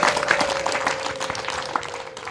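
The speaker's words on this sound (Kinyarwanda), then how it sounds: "mwongere mubahe amashyi n'impundu nyinshi" Wedding guests in Kigali applaud in a dense, steady burst of clapping, with a sustained high ululating tone running beneath it.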